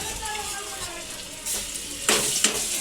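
Ginger-garlic paste sizzles in hot oil in a home kitchen, a steady frying hiss with sharper crackling bursts near the end as the paste hits the pan.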